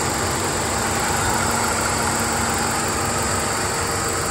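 A 2023 Hyundai Venue idles with its bonnet open, a steady unbroken engine hum with a constant whirring layer, loud and close, with no talk over it.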